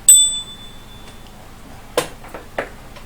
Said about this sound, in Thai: ใครได้ยินเสียงกระดิ่งนี้